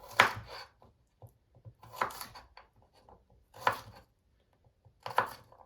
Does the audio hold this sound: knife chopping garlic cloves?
yes